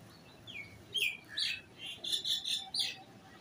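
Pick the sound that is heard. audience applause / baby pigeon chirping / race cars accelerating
baby pigeon chirping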